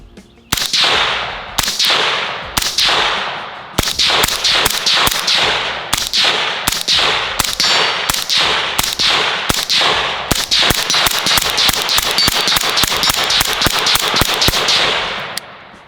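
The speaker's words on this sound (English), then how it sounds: "let's go ahead and run a couple rounds through this guy. I do not have the suppressor setting on, just regular" Rifle fired unsuppressed through a SureFire RC2 or HuxWrx Flow556k muzzle device: loud, close cracking shots, a few spaced rounds at first, then a rapid string of shots in fast succession.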